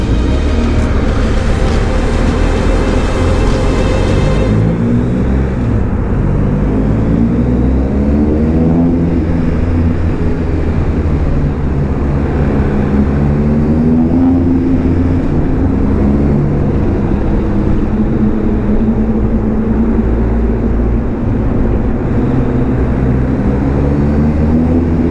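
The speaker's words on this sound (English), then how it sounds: "I like the way the BMW sounds" A BMW driving through a tunnel in Yosemite National Park gives a steady, loud engine and road roar that rises and falls in pitch as it accelerates, with the enclosed space adding a boomy wash and no voices over it.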